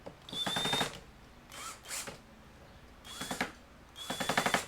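A power drill drives a screw into a board while building a DIY watercolor board, heard as several short whirring bursts with pauses between, fairly close and moderately loud.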